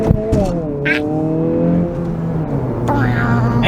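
A 2023 Honda Civic Si is pushed hard through first and second gear, its engine note climbing in pitch, dropping at the shift, then rising again, heard from inside the car with voices over it.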